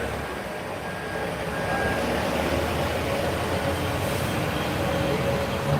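A brand new Optare Solo diesel bus pulls away from a stop in Ayr, its engine a steady low rumble that swells slightly as it departs, with someone talking faintly in the background.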